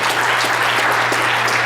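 Loud, dense audience applause at a public speaking event, steady throughout and with no voices over it.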